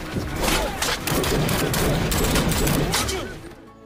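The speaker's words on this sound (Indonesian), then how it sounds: "menyerang mereka dengan butiran peluru yang membabi buta" Sustained, loud burst of automatic gunfire in a war film set on a dangerous Afghanistan route, rapid shots layered densely for several seconds before cutting off.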